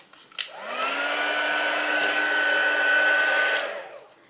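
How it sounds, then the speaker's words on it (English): A handheld hair dryer runs steadily on a craft background to dry wet paint, a close continuous whir with a tonal hum that starts up, holds for about three seconds and then cuts off. "I might dry that off now"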